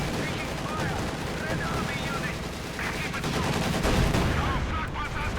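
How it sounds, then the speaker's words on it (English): Panzerwerfer rocket barrage in Company of Heroes 2 bursts as a dense, continuous stream of explosions and crackling battle noise, loud and steady with a heavier thump near the end, under faint background game sounds. "there we go another Panzerwerfer barrage, annihilating further Russian infantry"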